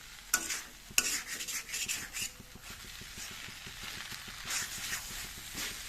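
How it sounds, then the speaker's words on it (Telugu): A spoon stirring tomato rice in a pan on the stove, with steady scraping and soft sizzling from the pan, a few sharper clinks near the start, close up and with no talk. "ఇలా కలుపుతూనే ఉండాలి"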